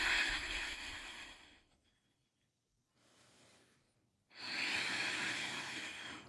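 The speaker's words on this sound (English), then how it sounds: "on that exhale, we're going to make a ha sound." Ujjayi yoga breathing, close and alone: a long breathy exhale, a soft inhale in a near-silent pause, then another loud, airy exhale like a drawn-out ha.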